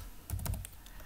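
A few quick keyboard keystrokes clustered together while entering a value in the LibreCAD drafting program, close and fairly quiet, with no talking.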